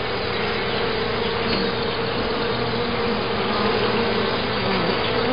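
Honey bees from a swarm buzz steadily and loudly during a hive inspection, a dense continuous drone close by with no talking.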